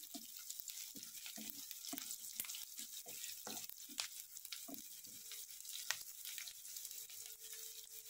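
Cashew masala for a wet-cashew usal being sautéed in a pan, giving a soft, steady sizzle broken by repeated stirring scrapes and clinks at a low, even level with no talking.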